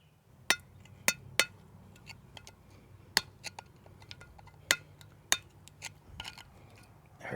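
A chisel struck sharply against a concrete block to chip out a lodged broadhead arrow tip, a scattered series of bright metallic clinks and taps, some loud and some faint, in a quiet space.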